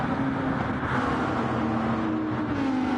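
Toyota race car engine in a motorsport racing game, a steady droning engine note with a sustained hum and road noise, moderately loud and continuous for a few seconds.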